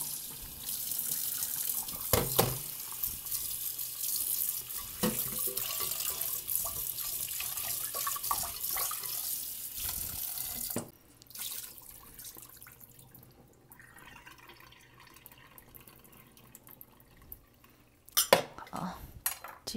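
Tap water runs into a pot on a stove as it is rinsed of powdery residue, a steady splashing stream with clinks of metal, then a quieter stretch of small knocks before a brief burst of water returns.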